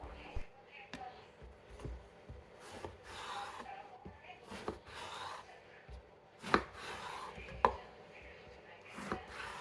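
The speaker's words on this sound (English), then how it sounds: "The first step is to cut the eggplant into slices." A knife slices through eggplant on a cutting board, making a series of soft, uneven chopping taps and rubbing cuts at close range.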